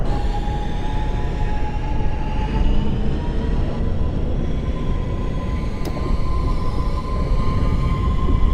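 An R160 Siemens subway train in the openBVE simulator runs steadily, a continuous loud rumble with a tonal whine as it arrives at the last stop, alone without voices.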